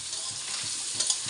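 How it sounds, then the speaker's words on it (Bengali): Potatoes with turmeric fry in a pan, giving a bright, steady sizzle with a few quick scraping stirs near the end, loud and close. "আলু ভাজা হয়ে গেছে এখন একটু হলুদ দিয়ে দিলাম"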